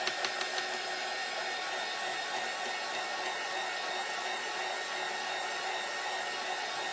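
Hair dryer blowing on white paint on a spring door hanger craft, a steady loud whooshing hum that continues unbroken throughout.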